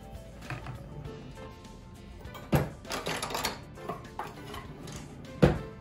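Turmeric being stirred into a lhaphing mixture in a pot, with scattered utensil scrapes and clanks against the metal, louder knocks near the middle and end.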